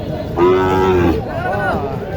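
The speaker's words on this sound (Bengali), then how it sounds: "এক গরু নিয়ে আসছে দেখেন" A cow lows loudly and close by at a busy cattle market in Naogaon, Bangladesh: one long drawn-out moo followed by a shorter, wavering second call over a faint background murmur.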